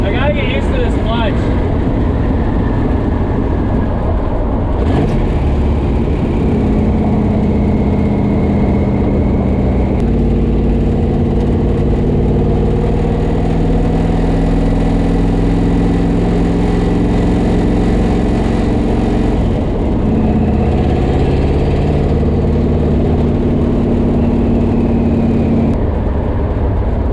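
A twin-turbo Toyota Corolla with a 700 hp engine runs steadily, a loud low drone with shifting pitch as it idles and revs gently while driving, with a voice talking over it now and then.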